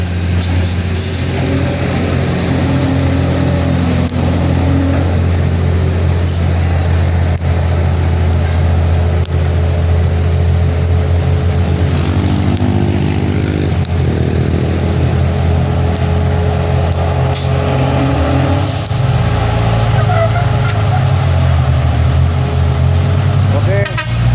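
A FAW trailer truck labours to climb a steep hill, its heavy diesel engine droning and straining loudly, the pitch dropping and wavering near the end, with a horn toot and people talking over it.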